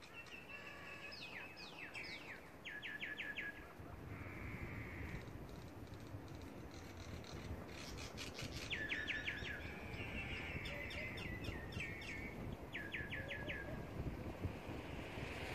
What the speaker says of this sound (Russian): птиц иноземных